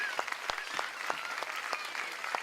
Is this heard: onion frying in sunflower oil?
no